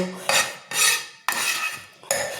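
Spoon scraping and clinking against a plate while serving fried drumstick flowers with potato, four distinct close metallic scrapes in quick succession.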